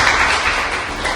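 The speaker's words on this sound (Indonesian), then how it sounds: "Tepuk tangan untuk Joanna." A classroom audience claps for Joanna during a microteaching lesson, a loud, dense burst of applause lasting about a second.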